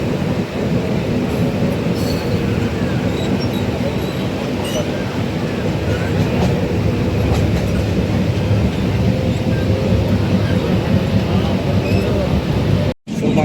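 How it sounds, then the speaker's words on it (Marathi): A crowded Mumbai local train bound for Karjat rumbles along at close range, with loud continuous wheel and carriage noise, faint rattles and brief squeaks, ending in a sudden short dropout near the end. "इकडनं आता कर्जत गाडी पकडायची आहे."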